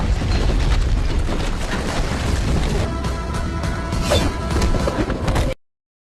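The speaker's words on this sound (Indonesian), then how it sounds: "menyalakan bom yang dilempar di depan pintu hingga meledak" A loud, sustained rumbling blast of a bomb thrown in front of a door fills the clip with dense low-end roar and crackle, then cuts off abruptly near the end.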